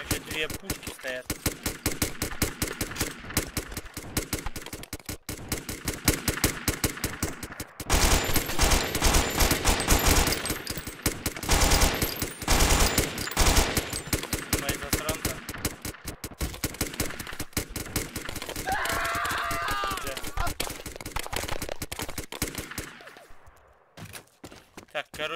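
Rapid bursts of game gunfire and booming cannon shots fill the scene, loud and dense, with a voice talking over the action.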